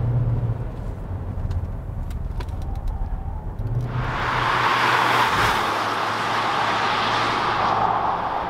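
Road and engine noise from a 2019 Kia Sportage SUV with a 2-liter diesel and 8-speed automatic on the move, a steady broadband rumble that swells louder and brighter about halfway through.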